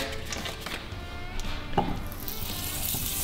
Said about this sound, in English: our pan is hot. So what we're gonna do, put a little butter in there,